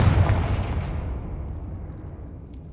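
The Confringo blasting spell goes off in the video game Hogwarts Legacy, a loud booming explosion with a deep rumbling tail that slowly fades.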